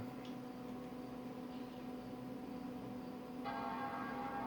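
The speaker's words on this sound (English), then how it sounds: "There's the chime, so it's booting." Power Mac G5 startup chime sounding as the computer reboots after a kernel panic: one rich, sustained chord rings in near the end over a steady background fan hum.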